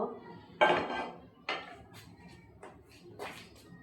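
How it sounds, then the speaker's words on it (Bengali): A frying pan is set on a stove with a few close metallic clanks and clatters spaced out over a few seconds in a quiet kitchen. "তারপরে এখন আমি ফ্রাই প্যানটা চুলায় দিয়ে দেব"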